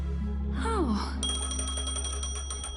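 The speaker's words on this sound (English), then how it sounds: "A phone." A telephone rings in Honkai: Star Rail, set in Penacony: a sliding chime gives way to a rapid, repeating electronic ring, bright and close over a constant low background hum.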